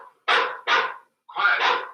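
A dog in the film The Wolf Man barks three times in quick succession, loud and close, sharp and slightly hoarse, the last bark drawn out.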